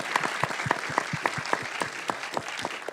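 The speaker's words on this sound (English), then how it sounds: "Let's have applause for Mr. Qureshi." A small group at a community event claps steadily, sharp individual hand claps in a quick uneven rhythm, moderately close.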